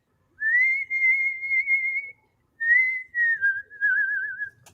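Someone whistles a song learned from a grandfather, clear, close, melodic phrases in two runs with a short pause between them, the second ending in a wavering trill.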